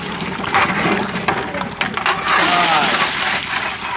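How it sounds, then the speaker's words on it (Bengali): Hot water gurgles and splashes into a large pot of fried rice and milk for a big batch of beef tehari, a continuous close pour with some clattering and bubbling. "গরম পানিটা দিয়ে দিলাম, গরম পানি করে রাখছিলাম"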